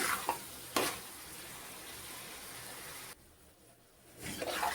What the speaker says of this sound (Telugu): కారం కూడా వేసుకున్నాక ఇంకా ఈ నిమ్మంతా ఆరిపోయి నూనె తేలాలి పైకి, అంతవరకు ఫ్రై అవ్వాలి.